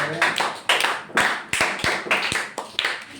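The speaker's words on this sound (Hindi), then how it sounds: "तालियां बजा रहे हैं" A primary maths class claps in a classroom, uneven bursts of hand claps arriving in loose rhythmic groups over about three seconds, fairly close and moderately loud.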